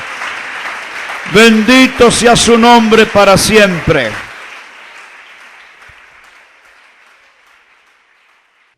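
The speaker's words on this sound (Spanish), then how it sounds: "¿Le quiere dar un aplauso a este Dios único y verdadero?" A church congregation breaks into applause during a sermon, a loud voice ringing out over the clapping before the sound thins and fades away over several seconds.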